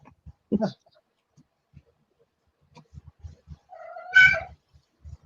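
A house cat meows once, a clear, drawn-out call near the end, after scattered soft knocks and a brief earlier squeak in an otherwise quiet room.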